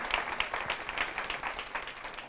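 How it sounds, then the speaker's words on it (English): Audience applause at a tech sales meetup, a steady patter of clapping from a modest crowd lasting a couple of seconds with no voices over it. "One last round of applause for Wrangle."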